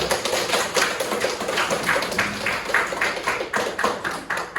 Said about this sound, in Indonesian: kita berikan aplaus untuk kita semua dulu